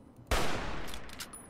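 Gunfire from the video game Fallout: New Vegas: a sudden loud broadband blast at about a third of a second in, followed by a sustained rumbling, crackling burst that slowly fades, with no talking.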